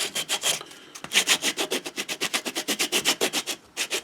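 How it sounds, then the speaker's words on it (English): Rough sanding on a custom knife, rapid rhythmic back-and-forth rasping strokes, close and fairly loud, with a brief pause early on before the steady scrubbing resumes. "this is your rough sanding"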